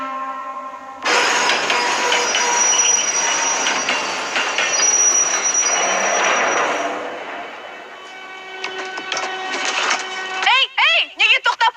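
An animated cartoon train of thought rumbles and hisses along with shrill wheel squeals, then winds down and falls quieter, and brief voices come in at the end.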